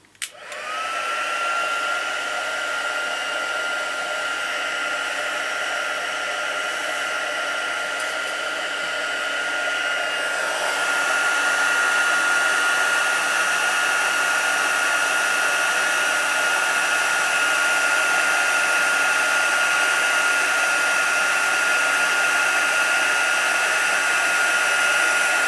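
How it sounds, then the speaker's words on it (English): A heat embossing tool blows hot air in a loud, continuous whirring rush that starts abruptly, then steadies and rises slightly in pitch as it warms up, alone without talk. "I'm going to let my heat tool warm up a bit before I actually start the embossing"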